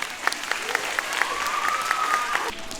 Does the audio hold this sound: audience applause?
yes